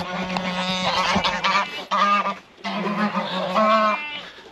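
Geese honk loudly nearby in harsh, repeated bursts, several calls overlapping with brief pauses between them.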